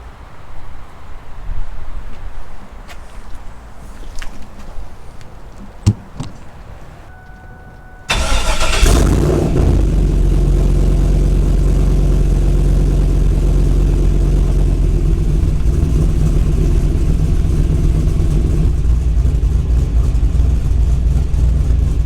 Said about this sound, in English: I want you guys to be able to hear how loud this Top Street Performance fan is.